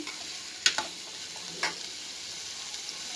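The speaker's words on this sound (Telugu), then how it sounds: "కొంచెం ఇది వేగాలి." Food fries in a pan with a steady, quiet sizzle, broken by a few sharp clinks of a utensil against the pan near the start.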